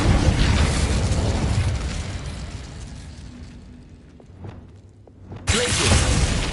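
A fire spell cast in Hogwarts Legacy: loud whooshing, roaring bursts fill the clip, dip into a quieter stretch with small pops, then a sharp loud burst returns near the end.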